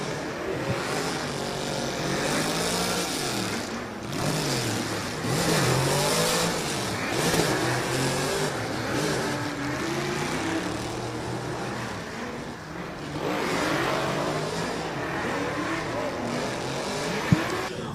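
A drift car at the Oman International Drift Championship 2023 qualifying run roars loudly for the whole stretch, its engine revving and falling in repeated surges amid broad track noise.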